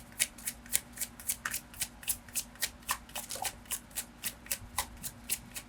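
Tarot cards are shuffled by hand in a quick, steady series of crisp riffling bursts, about three per second, close and clear, with no talking over them.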